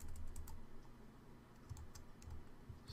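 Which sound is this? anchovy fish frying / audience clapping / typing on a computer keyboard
typing on a computer keyboard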